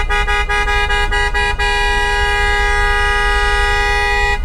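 A car horn blares in a long, loud, sustained blast in New Jersey traffic, with a few sharp knocks early on and no pauses.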